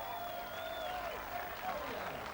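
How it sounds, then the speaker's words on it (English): Crowd at a 1997 strongman competition cheering and applauding for an American competitor, a steady roar of claps and voices filling the whole stretch, with a commentator's voice and a tonal whistle-like line over it. "a rapturous cheer for the American."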